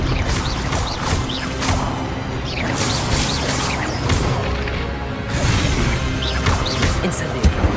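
Spell-casting in Hogwarts Legacy: a dense, busy burst of magical whooshes, crashes and mechanical clatter running continuously at steady loudness, with voices mixed in.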